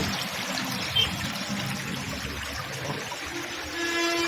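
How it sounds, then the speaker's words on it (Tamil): Heavy rain falls in the Amazon forest while water pours and streams steadily nearby, a dense continuous hiss and gurgle with no voices. "சரியான அமேசான் காட்டில் சரியான மழை பெஞ்சிங்க பாருங்கள், எவ்வளோ தண்ணி வந்துட்டுருக்கு"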